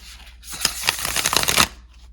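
A deck of coreless playing cards is riffle-shuffled slowly and gently, giving one close, crisp burst of fluttering card snaps that lasts about a second before it stops.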